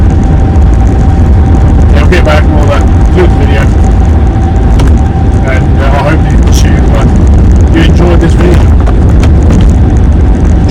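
A Smart car's small engine droning steadily at around 30 mph just after a downshift into fourth, loud and continuous with road and wind rumble, close to the cabin microphone.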